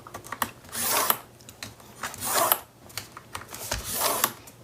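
Scoring tool pressed along album board to crease half-inch score lines, producing three separate rasping scrapes, each about a second long, with quiet pauses between them and no talking.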